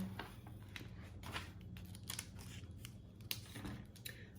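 Scissors snipping the white backing off a hair bundle wrap, a string of soft, close cuts with a faint crinkle of paper or plastic, quiet and uneven.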